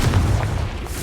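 A Confringo explosive spell bursts in Hogwarts Legacy, a loud, deep booming blast with a rumbling low tail lasting about a second.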